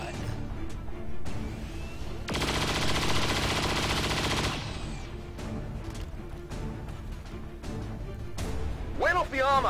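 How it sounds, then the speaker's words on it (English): Rapid automatic gunfire from a chain shot in the video game XCOM 2, a loud dense burst of about two seconds amid game sounds, with a voice talking over it. "Come on, chain shot. Thank you, chain shot."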